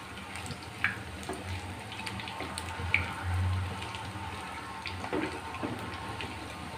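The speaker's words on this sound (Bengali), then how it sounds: "এখন একে একে চপগুলো তেলে ছেড়ে দেব।" Egg and onion chops fry in hot oil with a steady low sizzle and a few soft pops and clinks, with no talking over it.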